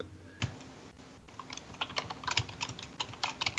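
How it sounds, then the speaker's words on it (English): Clicky computer keyboard typing with irregular bursts of keystrokes, fairly close and alone, during a tabletop role-playing game session. "Also, there's typing coming from your DDS."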